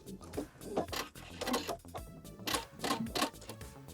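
A sewing machine tacks the seam allowances of a lined blazer hem together, running in short, rhythmic bursts that pause and restart, close and fairly quiet.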